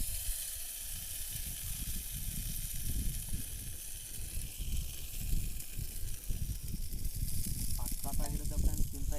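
Lake fish fries in oil in a pan, village style, a loud, continuous hissing sizzle with crackling spatter up close, steady throughout.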